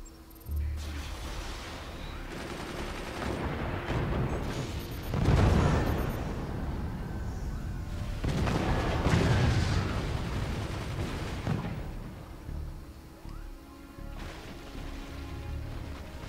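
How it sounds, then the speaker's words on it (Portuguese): Heavy booming cannon blasts in the video game Forts rumble in repeated waves over a constant roar of battle noise, loud and continuous with no talking. "Se o cara vai me atirar com um canhão"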